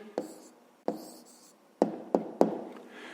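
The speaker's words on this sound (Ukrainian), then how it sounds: "записуємо тоді відповідь" A pen writes down the answer to a fifth-grade math exercise in five quick strokes, spaced irregularly, each a short close scratch that fades out, with no talking.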